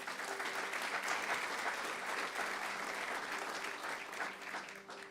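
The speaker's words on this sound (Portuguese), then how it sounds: "Dê um forte aplauso ao Senhor." A church congregation gives steady, sustained applause, dense crowd clapping heard from within the room at moderate volume, with faint voices and a low tone in the background.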